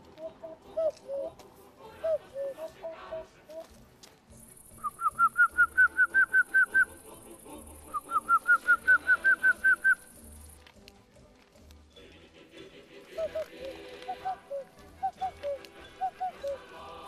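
A man imitates birdsong by whistling, producing two rapid runs of bright, repeated chirping notes at close range, framed by shorter warbling trills and some faint background murmur.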